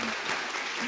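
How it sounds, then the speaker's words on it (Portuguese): Audience applause at a panel event on diversity in academia and media, a brief, dense burst of many hands clapping at steady level. "Salva de palmas."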